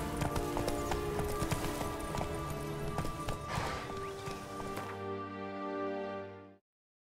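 Roach the horse galloping in The Witcher 3, fast steady hoofbeats under a bed of game music, ending as the hooves stop and a held tone fades out.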